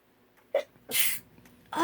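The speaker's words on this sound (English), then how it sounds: "Oh, I got to sneeze." A woman sneezes indoors: a short sharp intake, then a loud explosive sneeze, with a small breathy follow-up at the end.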